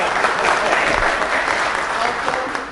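An audience claps throughout after a WordPress talk, loud continuous applause from a room full of people with a few whoops and no speech over it.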